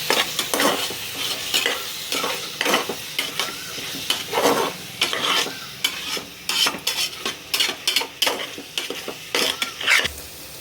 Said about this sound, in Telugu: ఇవన్నీ కూడా బాగా ఫ్రై అయ్యే వరకు ఉంచాలండి